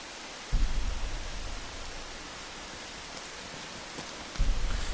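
Steady hiss of rain falls throughout in the video game Rain on PS4 Pro, with two brief low rumbling swells near the start and end; no voices.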